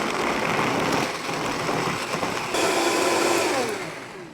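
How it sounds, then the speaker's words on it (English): A countertop blender whirring loudly as it blends almonds and water, a steady high-pitched motor roar that shifts in tone partway through, with no talking. "Pop that on the blender"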